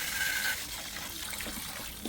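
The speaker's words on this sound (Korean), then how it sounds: "먼저 물을 붓고 한 2시간 정도 담가 놓으세요." Water pours steadily from a tap over a batch of pork bones soaking for Korean pork-bone potato stew, a soft continuous gush and splash, fairly quiet and close.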